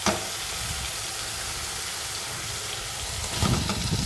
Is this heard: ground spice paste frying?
yes